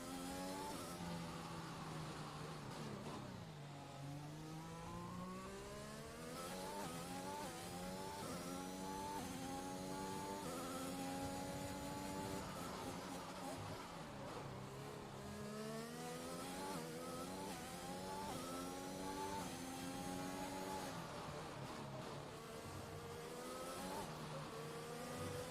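F1 2021 race cars on hot laps around the Singapore street circuit, engines whining and shifting through gears in continuous rising sweeps, loud and sustained with no talk.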